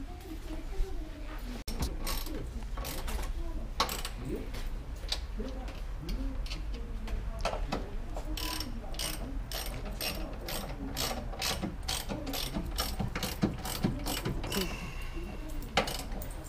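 A hand ratchet clicks in rapid repeated bursts, tightening bolts while a strut bar is refitted on a Ford Mustang at an auto show, close and steady over a busy background with faint voices.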